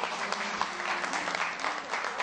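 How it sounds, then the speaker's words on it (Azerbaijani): An audience at a poetry gathering applauds a poet, a dense, steady wash of clapping from many hands throughout, with no talk over it. "Gəlin alqışlayaq şairə."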